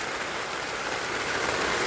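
Heavy rain pours down steadily at a campsite, a dense even hiss with no pauses and no voices.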